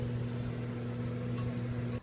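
Steady microwave oven hum with a strong low electrical drone while a red velvet cake bakes inside for about a minute and a half, a few faint clicks near the end before it cuts off.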